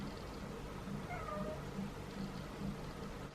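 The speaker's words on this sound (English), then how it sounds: "So many cats" Feral cats meowing close by, several short plaintive cries in a loose uneven sequence over steady low background rumble.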